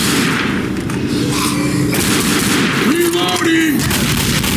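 Gunfire in the video game Left 4 Dead, aimed at a Smoker zombie: a dense, continuous barrage of shots over a loud noisy game backdrop, with a faint tonal hum drifting in and out.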